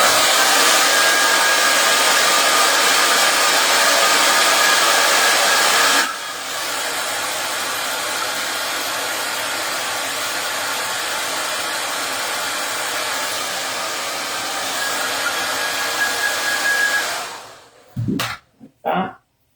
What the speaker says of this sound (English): I grab my blow dryer